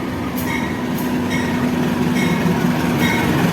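A Prameks commuter train on the Jogja–Kutoarjo line running along the rails, heard from on board as a steady loud rumble with a faint wheel squeal and periodic clicks.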